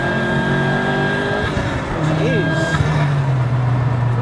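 Vauxhall Nova fitted with a swapped Mark IV Astra 2.0 turbo engine, revving loudly nearby with rising and falling engine tones, while people talk and exclaim over it throughout.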